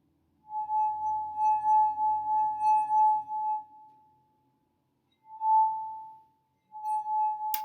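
A drinking glass partly filled with water rings with a clear, sustained tone after being struck, fading out and returning in a second and third ring, with faint low background sounds under the first one.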